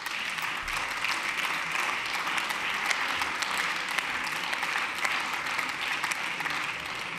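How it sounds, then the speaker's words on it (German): Steady applause fills the Berlin House of Representatives (Abgeordnetenhaus) chamber during a 2014 plenary session: dense, even clapping from many members that holds at a constant level throughout. "Applaus"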